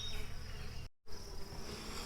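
Honeybees crowd the screen of a queen cage, giving off a steady, close insect buzz with a high whine that cuts out briefly partway through.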